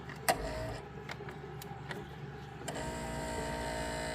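A small electric motor of a Ninja Dualbrew Pro milk frother whirs steadily with a high mechanical hum, picking up slightly in pitch partway through, with a few faint clicks and no talking.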